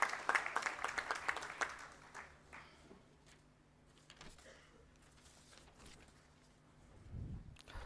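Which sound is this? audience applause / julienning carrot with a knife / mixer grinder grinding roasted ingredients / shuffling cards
audience applause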